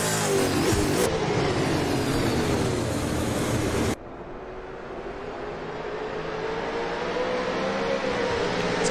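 A V8 Supercar engine howls at high revs in a racing video game, loud and steady, with a sharp drop in level partway through before the drone builds again, with no talking.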